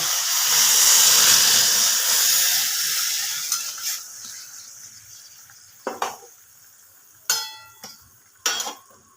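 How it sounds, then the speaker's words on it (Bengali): Loud bubbling sizzle and hiss from a pan of pointed gourd curry with hot water added gradually quiets, followed by a few sharp clinks of a utensil against the pan. "তরকারিটা ফুটছে"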